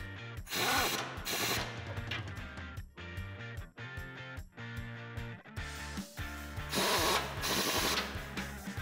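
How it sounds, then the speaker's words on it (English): A socket ratchet clicks rapidly while tightening nuts on the factory bolt plate of a 2007-2013 Silverado 1500 off-road front bumper, loud, close bursts of ratcheting with brief pauses between strokes. "you can grab your 21 millimeter socket and tighten down the nuts on the factory bolt"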